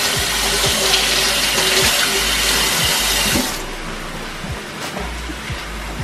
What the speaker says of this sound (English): I'm gonna rinse my hand off.